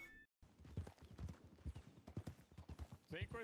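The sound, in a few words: horse hooves clip-clopping in Global Rescue video game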